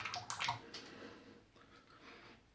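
A shaving brush is dunked in water and squeezed out, giving a few close wet squishes and drips early on that fade into a quiet room.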